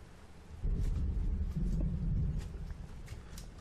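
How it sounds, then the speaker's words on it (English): A heavy storm rolls through a Minecraft world running a localized weather mod, with rain and gusting wind forming a steady, loud, dense roar that swells after a quieter opening and holds to the end. "This is quite the storm here."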